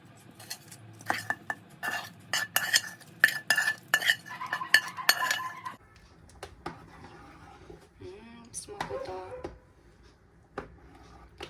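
Metal utensils scrape and clink against a pot as fried vegetables are stirred into pea soup, busy close clatter that thins out to a few occasional taps and soft sounds.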